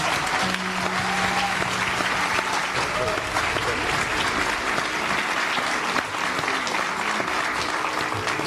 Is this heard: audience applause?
yes